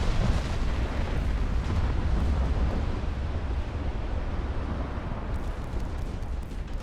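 Warship guns in Ultimate Admiral: Dreadnoughts keep up a continuous deep, rumbling barrage of naval gunfire and explosions that stays loud and dense for the whole stretch, with no talk over it.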